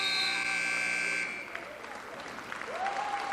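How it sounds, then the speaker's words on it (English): A loud sustained buzzer sounds at a wrestling championship, holding steady for just over a second before cutting off, followed by crowd noise, applause and scattered voices in the arena. "And there is a buzzer."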